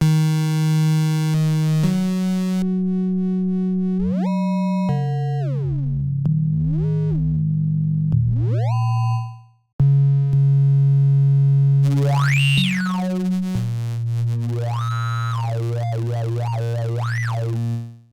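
Free software synthesizer running ring modulation and oscillator sync, giving buzzy held tones that sweep and warble in pitch, with metallic rising and falling chirps, a short gap midway, and no talking.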